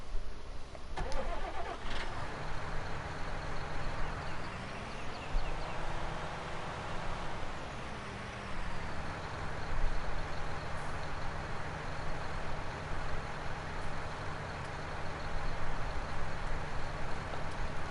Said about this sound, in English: I like these 6Rs, they're nice tractor.